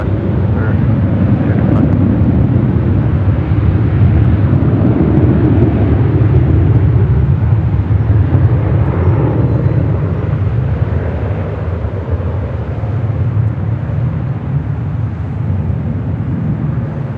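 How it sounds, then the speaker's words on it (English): A Boeing 787 Dreamliner takes off down runway 25 right at Los Angeles International Airport, a loud continuous low roar of jet engines that holds steady and eases slightly toward the end. "Dreamliner now rolling down 25 right"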